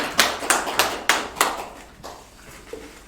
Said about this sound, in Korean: 주님께 영광의 박수 올리십시다.